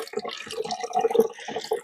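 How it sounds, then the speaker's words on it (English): Water runs and splashes steadily at a backpacking water source along a stream, close and continuous for a brief moment, with no talking. "Some good running water here"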